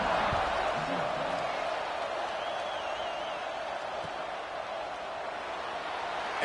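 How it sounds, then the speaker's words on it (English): A football stadium crowd keeps up a steady, loud buzz after a touchdown and extra point, a broad wash of many voices with scattered whoops that runs evenly throughout. "this crowd is buzzing after that last score"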